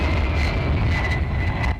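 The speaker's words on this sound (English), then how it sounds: "We do see the A-10 coming in for another run." An A-10 attack jet makes a strafing run in a 10-versus-10 Conquest match on the Resort map, a steady loud engine roar and rumble filling the moment with no talk.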